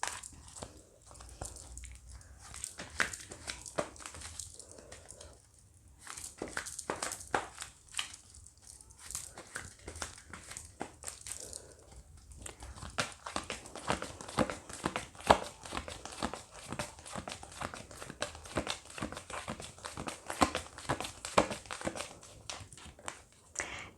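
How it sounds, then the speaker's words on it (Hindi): Oracle cards are shuffled and handled close up, giving dense rustling, crinkling and soft slapping that comes in uneven bursts and grows busier toward the end. "अब हम आपके लिए ऑरेकल कार्ड्स देखते हैं"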